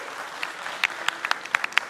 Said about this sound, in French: on peut quand même l'applaudir pour ça.